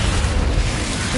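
Dense booming spell blasts from Bombarda and Confringo in the Hogwarts Legacy video game, a short loud burst of rumbling explosive noise with no break.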